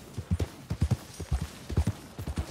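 A horse's hooves clip-clop in Red Dead Redemption 2, close and distinct, beating in a quick, regular trotting rhythm of paired strikes.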